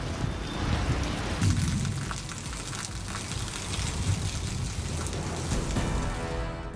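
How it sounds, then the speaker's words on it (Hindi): Heavy unseasonal rain in Navsari, Gujarat pours down steadily with a dense roar, gusting wind and a rumble of thunder early on, loud and continuous with no speech. "गुजरात के नवसारी में तेज हवा और बिजली के साथ हुई बारिश"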